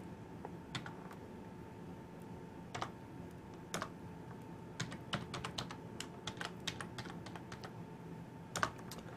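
Credentials are typed on a computer keyboard as a fairly quiet, steady string of key clicks with irregular rhythm and a few sharper taps, with no voices.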